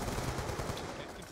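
An N94 rifle firing in Black Ops 2, heard as a dense, continuous burst of rapid gunfire with a noisy, washed-out texture and moderate level, with no speech over it.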